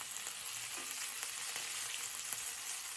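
Meatballs fry in a pan with a steady, dense sizzle throughout, broken by occasional faint clicks as they are turned, with no voices.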